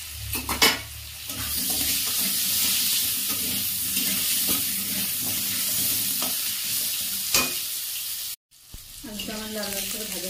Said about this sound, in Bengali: এই তেলেই আমি আলুটা ভেজে দেবো